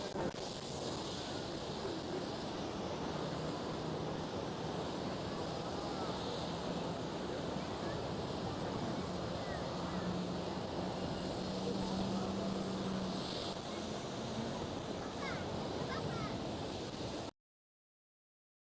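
A Lufthansa airliner rolls along wet runway 18 Left at Amsterdam Schiphol, giving a steady, broad engine roar laced with spray hiss. The sound holds evenly at a distance for about seventeen seconds, then cuts out.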